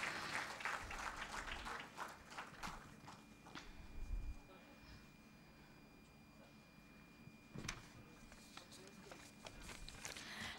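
A small audience claps after a presentation at an international conference on traditional and alternative medicine, a faint, sparse and uneven patter of hands that fades in the middle.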